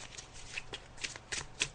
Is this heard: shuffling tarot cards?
yes